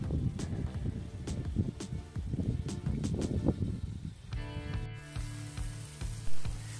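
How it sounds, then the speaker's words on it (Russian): Vegetables fry lightly in a kazan over a campfire, a crackling sizzle with scattered sharp pops. Partway through, a steady tonal hum rises and continues under the quieter frying. "И все это мы обжариваем слегка, в принципе, как альденто"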